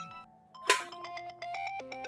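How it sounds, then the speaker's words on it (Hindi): A mobile phone rings with an incoming call, a melodic electronic ringtone of bright repeated tones played close and clear, with no voices over it. "अम्मी का फोन आ रहा है"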